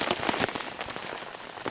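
Heavy rain pours down outdoors and patters densely on nearby surfaces, making a loud, continuous hiss with no speech over it.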